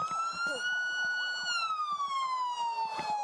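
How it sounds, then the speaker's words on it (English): Police car siren wailing loudly and continuously nearby, its pitch sweeping slowly up and down, with faint clicks and rustling from the scene underneath. "This guy needs to turn his siren off."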